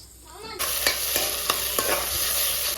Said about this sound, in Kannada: ಚೆನ್ನಾಗಿ ಫ್ರೈ ಮಾಡಿಕೊಂಡೆ